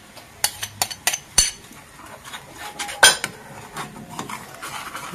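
A spoon knocks and scrapes around a pan while a cheese sauce for a burger sandwich is stirred continuously, a series of sharp metallic clinks and taps over a quiet background, with a louder clatter near the middle.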